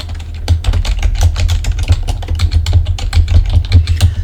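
Rapid, steady typing on a computer keyboard while entering text into an Excel spreadsheet, close and clear with dense key clicks and no talk.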